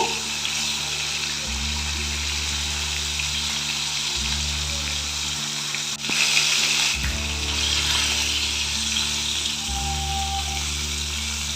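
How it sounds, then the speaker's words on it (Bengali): Pieces of bhola fish frying in oil in a home kitchen, a constant loud sizzle running the whole time with a low hum rising and falling underneath. "লাল করে মাছগুলোকে ভেজে তুলে নেব"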